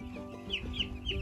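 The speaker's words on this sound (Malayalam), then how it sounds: "ഇതാണ് കോഴി ഫാം." Six-day-old broiler chicks in a poultry farm housing about 2,700 birds cluck and peep in quick, close overlapping calls.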